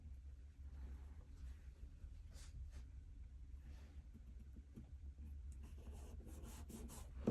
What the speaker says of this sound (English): I would just write a little note what I'm thanking the person for.